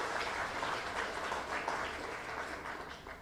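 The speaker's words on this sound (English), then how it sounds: "Let's clap for our founders." An audience at a savings cooperative's 40th anniversary event applauds its founders, a continuous wash of many hands clapping at moderate distance that gradually softens toward the end.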